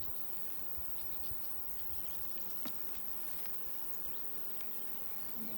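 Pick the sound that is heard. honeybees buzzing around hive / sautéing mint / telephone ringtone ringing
honeybees buzzing around hive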